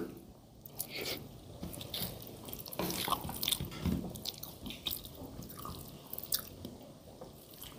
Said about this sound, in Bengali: চলুন খাওয়াটা শুরু করি।